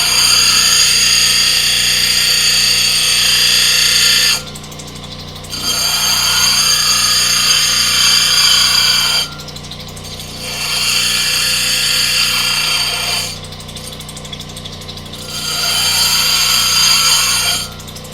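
A Highland Park SM1 shaping machine grinds on a wet 80-grit wheel. The harsh, loud, close grinding comes in four long passes, each broken by a short quieter pause, with no talking.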